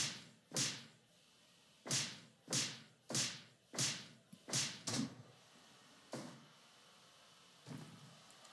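Wrestlers trade chops in the Fire Pro Wrestling video game, giving about ten sharp, loud slapping impacts at a steady pace. The later hits are spaced wider apart and fade, with no talk over them.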